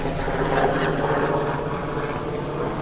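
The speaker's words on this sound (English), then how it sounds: "helicopter going over there." A helicopter passes overhead, its rotor and engine making a loud, steady drone that fills the whole stretch without any talking.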